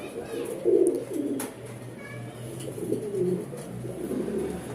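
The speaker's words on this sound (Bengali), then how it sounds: "ছটফটা কবুতর দেখেন স্থির নাই মানে ছোটার কবুতর এগুলা" A racing pigeon pair coos in a loft, low rolling coos rising and falling in several bursts nearby, with faint human voices in the background.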